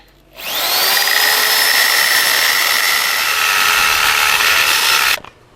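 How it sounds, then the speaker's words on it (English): A power drill with a carbide bit bores steadily through the brick of a chimney and its liner, a loud, continuous high-pitched grinding whine that starts abruptly, holds for about five seconds, then cuts off. "Okay, go ahead, drill away."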